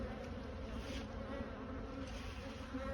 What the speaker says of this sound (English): This box is packed with bees.